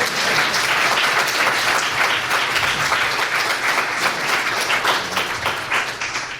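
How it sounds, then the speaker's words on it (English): Loud, dense applause from an audience at an international trombone festival, many hands clapping close and continuous before fading slightly at the end. "We can clap for Grayson."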